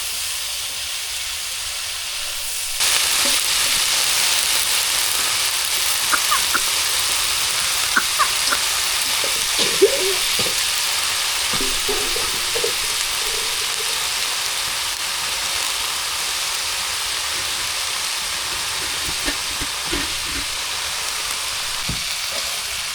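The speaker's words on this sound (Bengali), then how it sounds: "মশলা কষাইছে সব" Spices sautéing in a pan in a village kitchen give a steady broadband sizzle and hiss that starts abruptly after a few seconds and continues evenly, with faint scattered clicks and scrapes of stirring.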